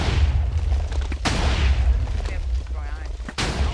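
Repulsor blast destroying blocks in the Minecraft Superheroes Unlimited mod: loud booming bursts over a steady low rumble, with sharp blasts near one and three and a half seconds.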